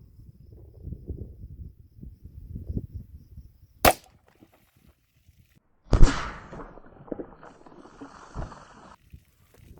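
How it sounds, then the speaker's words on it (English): An outdoor handgun test fires a .40 S&W Underwood 200-grain hardcast round into water jugs behind a simulated bone barrier. A sharp, loud crack is followed by a heavier burst with a splashing, rattling tail, with quiet rustling before the shot. "third shot here with the standard bone barrier jugs test"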